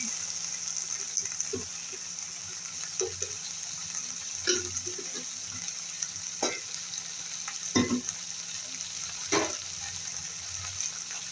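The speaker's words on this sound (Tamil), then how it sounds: "வெண்டைக்காய் நல்லா சுருள வதங்கட்டும்." Okra sautéing in a pan for a South Indian stir-fry, a steady close sizzle broken by several sharp scraping stirs of a spoon against the pan, with no talk.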